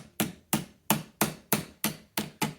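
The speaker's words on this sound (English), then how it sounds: "I wonder if I can just hit it with a hammer" A very small hammer taps a clutch part on a Jawa 350 motorcycle, giving eight crisp metallic strikes at a steady pace roughly three per second, close and clear with no talk.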